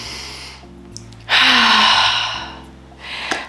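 Slow, deep breaths drawn in and let out during a guided breathing exercise: one long, loud airy inhale-exhale close to the mic, then the start of another, over a soft low sustained drone.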